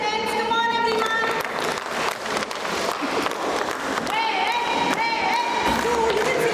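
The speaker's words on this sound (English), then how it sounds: "Cheer for your friends. Come on, everyone." Parents at a school workshop cheer and clap loudly throughout a bead-race game, a dense, steady roar of voices and applause with shouts rising over it.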